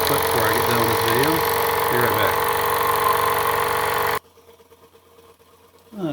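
A Jensen 70BBG live steam engine runs with a steady, even mechanical chug close by for about four seconds, then cuts off abruptly, leaving near silence before a brief return of sound.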